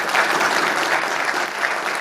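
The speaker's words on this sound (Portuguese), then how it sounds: "Uma salva de palmas" Steady, dense applause fills the room at a Brazilian conference on the state's role in railway infrastructure, a full crowd clapping at even loudness for about two seconds with no voice over it.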